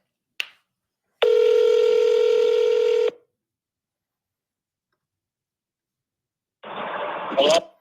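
Telephone keypad tones sound in a quick dialing burst, followed by a long steady tone lasting about two seconds, then silence and a later ringing-type tone near the end, all close and clear.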